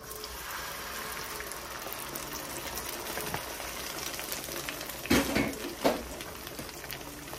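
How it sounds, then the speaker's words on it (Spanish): Beans go into a saucepan and get stirred: a soft simmering bubble runs underneath while a couple of louder scraping clanks of a utensil against the pan stand out near the end, with no voices. "voy a remover de la cacerola. Y voy a agregar los frijoles."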